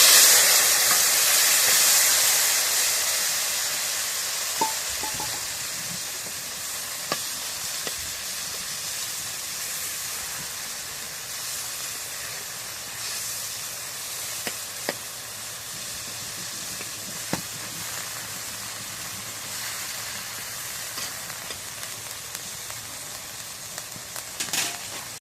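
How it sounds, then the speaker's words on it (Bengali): Pointed gourd pieces dropped into hot oil, giving a loud, dense sizzle that burst at the start and settled into a steady, softer hiss with occasional faint pops. "এখন এই যে তেলের মধ্যে পটলগুলো দিয়ে দিই।"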